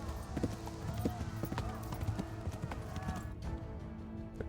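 In the medieval video game Kingdom Come Deliverance, a horse gallops with rapid, rhythmic hoofbeats under steady wind and ambient noise, fairly quiet overall, while a person talks over it.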